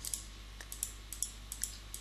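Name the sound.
mouse clicking while painting in Photoshop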